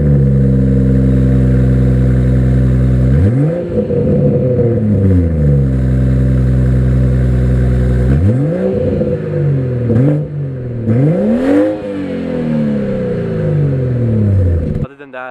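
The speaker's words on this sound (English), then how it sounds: "I have quad tips on the setup, and it is straight pipe, and a lot of people are wondering how to do it." A modified BMW 540i with a straight-pipe quad-tip exhaust, intake and stage one tune, revving loudly up close: a deep idle burble broken by several sharp throttle blips that rise and fall, one long sweeping rev and crackling pops.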